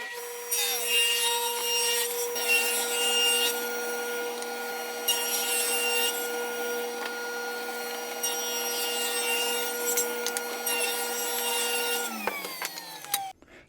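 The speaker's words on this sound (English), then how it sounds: "I've got a piece of this heart pine that's a 1x12, and I'm going to rip down some strips to 2 inches" A table saw rips a heart pine 1x12 board into 2-inch strips, a loud steady whine with a rough cutting rasp that holds for about twelve seconds before the motor drops off and winds down.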